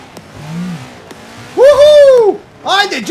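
An off-road car drives and jumps through a river, its engine revving in loud, close bursts of rising and falling pitch separated by short quieter gaps.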